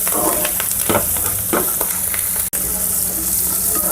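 Curry leaves and seasonings sizzling in hot oil in a pan while making tomato bath, a steady close frying hiss with occasional stirring clatter and no talking.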